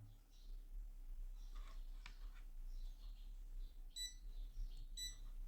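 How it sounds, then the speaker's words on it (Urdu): A repaired fan circuit fitted with a new MOSFET and powered from a DC supply gives two short, sharp electronic beeps near the end, after a quiet stretch of faint hum and small clicks. "یہ ہم دیکھ سکتے ہیں اس نے بیپنگ شروع کر دیا ہے"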